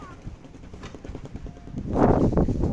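Horse hooves clip-clop in a steady rhythm at a school riding setting, getting louder and closer toward the end, with faint voices around.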